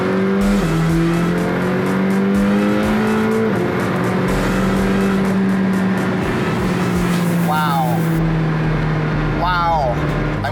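A McLaren Senna sports car pulls hard with a loud, rising engine note through the gears, heard from inside, with short sharp whooshes near the end and voices talking over the drive.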